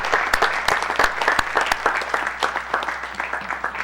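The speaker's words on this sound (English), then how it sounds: "give Mr. Hu a hand clap" An audience at a livestreamed church gathering gives a hand clap, dense sustained applause filling the space, loud and continuous with no voices rising above it.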